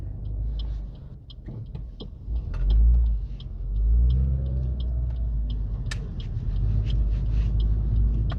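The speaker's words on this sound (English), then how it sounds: "See, you've hit 60 again there, Arathy." A car engine hums on a road during a driving test, swelling twice into louder revving accelerations, with a steady rumble between.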